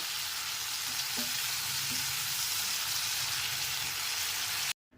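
Young broad beans (shim) sizzle steadily in hot oil in a pan, a continuous close crackling hiss with a few faint utensil taps, cutting off abruptly near the end.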